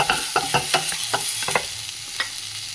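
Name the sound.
onion frying in a pan for ullipaya pachadi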